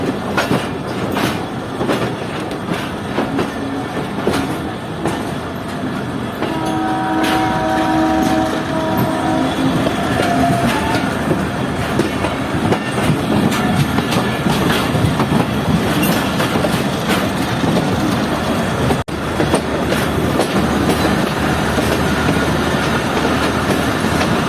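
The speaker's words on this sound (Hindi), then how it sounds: "अब ये ट्रेन ML2 पर आ चुकी है, यानी कि पाकिस्तान रेलवे की मेन लाइन 2।" The Mohen Jo Daro passenger train runs along Pakistan Railways Main Line 2 between Karachi and Sehwan, with a loud, steady rumble and rattle of wheels and carriages and a sustained horn blast partway through.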